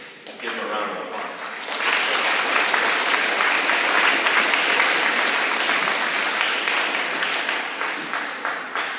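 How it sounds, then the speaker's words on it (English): Crowd at a school spring athletic awards ceremony breaks into applause that quickly swells to a full, dense roar of clapping, holding steady and strong before tapering slightly near the end. "Give him a round of applause."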